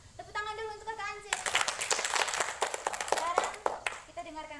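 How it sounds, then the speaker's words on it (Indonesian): Children at a scout gathering clap together in a lively, uneven burst of sharp hand claps lasting a few seconds, with children's voices speaking and calling out before and after. "Tepuk tangan dulu untuk Kakak Ance."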